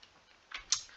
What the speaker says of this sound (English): I'll just type this one in.